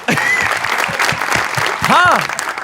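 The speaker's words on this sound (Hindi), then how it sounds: "इनको तालियां." TV talk-show studio audience applause, a loud burst of clapping with a few vocal exclamations mixed in near the end.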